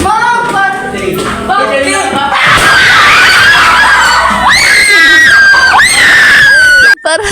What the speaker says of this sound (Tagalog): Grabe yun talaga yung sigaw namin, be.